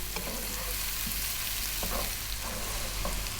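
Finely chopped onion frying in oil over above-medium heat, a dense, continuous close sizzle with occasional soft scrapes of stirring, no talk.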